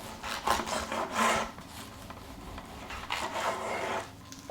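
A knife slicing through smoked salt-and-pepper pork ribs with a crispy membrane, a few soft rasping strokes in separate bursts, close and fairly quiet with no talking.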